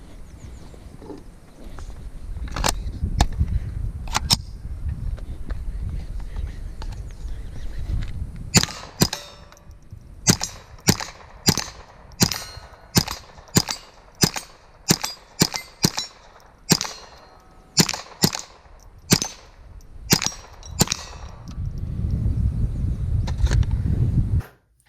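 Gunshots from a Smith & Wesson M&P 15-22 rifle firing 36-grain rounds, a long string of sharp, close cracks, a few spaced shots and then a steadier rapid sequence, with outdoor rumble between.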